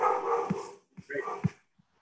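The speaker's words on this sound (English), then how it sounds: "someone has a dog" A dog barks and yips in a few quick, close bursts, heard over a man lecturing in a hall.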